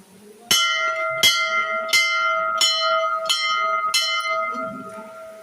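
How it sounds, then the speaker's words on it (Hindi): A metal temple bell rings six times at a steady pace, each strike bright and sustained, with the ringing tone lingering between hits. "हमने घंटी बजा दी है"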